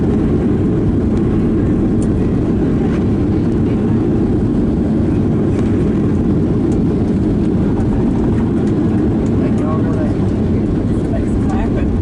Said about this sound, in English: that's officially the roughest landing we've ever had